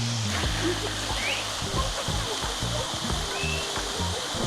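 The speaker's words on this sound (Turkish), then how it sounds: "Şuradaki şelaleden ufak bir kesit alabilirim diye düşünüyorum." A waterfall roars in a continuous broadband rush, close and steady throughout, with low irregular tones from the surroundings beneath it.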